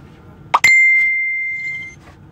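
A phone message notification chime sounds close and loud: two quick clicks, then a single bright tone that rings out and fades over about a second and a half.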